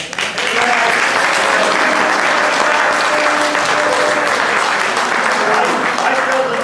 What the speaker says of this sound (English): another round of applause needs to go to Mike Callahan